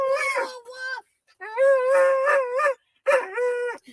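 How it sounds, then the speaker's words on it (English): A dog whines for treats in three drawn-out, wavering howl-like cries with short pauses between them, close and clear. "That's his whine that he has to do to get his treats."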